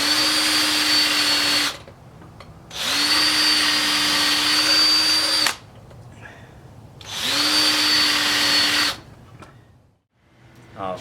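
A power drill bit spins up in three sustained bursts, each a few seconds long with short gaps between, while it loosens an upper control arm bushing on a C3 Corvette. The whir is close and loud.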